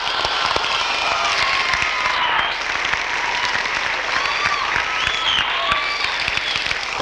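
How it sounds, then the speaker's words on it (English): Studio audience applause during a 1978 Santa Clara show taping, a loud, dense wash of clapping with some cheering that holds steady for about seven seconds, with brief shouts rising above it. "So, if we could we have an applause check,"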